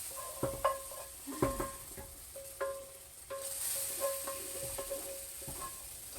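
Hot grease sizzles softly in a pot of chicken and sausage Creole gumbo, with scattered metallic clinks and stirring scrapes coming and going; no voices.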